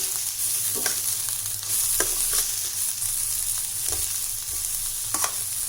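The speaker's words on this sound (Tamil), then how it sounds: "இது நல்லா வதக்கிடலாம்." Onion and curry leaves sauté in hot oil for a carrot, beans and egg poriyal, giving a loud continuous sizzle close by, with intermittent spatula scrapes and clicks against the pan and no talking.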